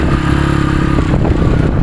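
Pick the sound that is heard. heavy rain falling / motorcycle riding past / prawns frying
motorcycle riding past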